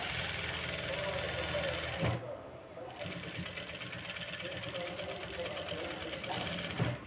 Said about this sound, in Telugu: చక్కగా ఇలా కుట్టు వేసేసుకుంటూ సెంటర్ చూసుకుంటూ ఇలా చూడండి చక్కగా వచ్చేస్తుంది మనకి